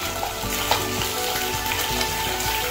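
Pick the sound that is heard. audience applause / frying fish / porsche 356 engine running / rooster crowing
frying fish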